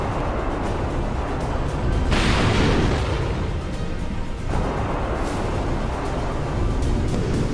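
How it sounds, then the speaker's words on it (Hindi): Explosions go off in the night sky over Kiev during an air attack, with air-defence missiles firing at kamikaze drones. Several deep booms roll through a continuous loud rumble, with sharp bursts around the second and fifth seconds. "आसमान में कई धमाके हुए"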